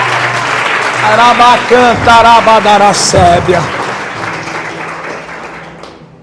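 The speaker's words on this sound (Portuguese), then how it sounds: "Aplauda o nome do Senhor" A church congregation applauds in a dense patter of clapping while a preacher keeps speaking loudly and sings over it, the applause fading near the end.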